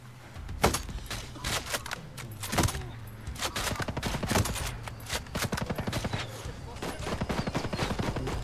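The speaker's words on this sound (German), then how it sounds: "Hör auf, mich zu beschießen, scheiß Geschütz" Turret gunfire in Ghost Recon Breakpoint, loud sustained bursts of rapid shots with heavy booming impacts at intervals, close and continuous throughout.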